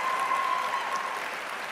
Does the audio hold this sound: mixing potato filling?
no